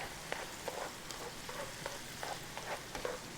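Cabernet wine simmers in a pan for beef stroganoff, a soft continuous sizzle and bubble with a few faint stirring scrapes, quiet and close.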